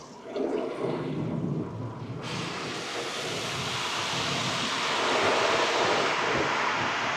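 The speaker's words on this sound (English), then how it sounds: "spot-free rinse." Water sprays hard in a steady, loud hiss during a spot-free rinse at a Buc-ee's automatic car wash, heard from inside the car, swelling at one point and continuing without talk.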